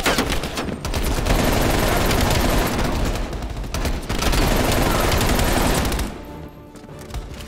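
Sustained automatic gunfire in Call of Duty Black Ops Cold War, during the Brick in the Wall mission, rattles loud and dense for several seconds before dropping away near the end.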